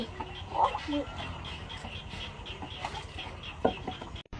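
Chickens and ducks cluck and call intermittently at a rural farmyard during feeding, faint and somewhat distant amid steady outdoor background noise, with a person talking nearby.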